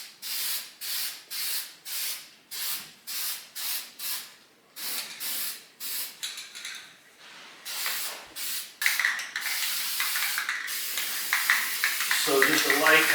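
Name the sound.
spray paint can coating an electric baseboard heater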